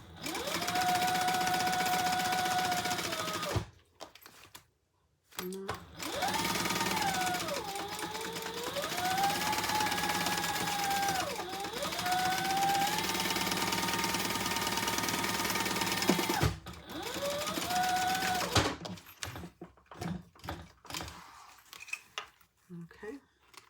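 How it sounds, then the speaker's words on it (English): Sewing machine running long basting-stitch passes through leather, a steady mechanical whir in several sustained bursts separated by short pauses, close and fairly loud. "Again, another basting stitch."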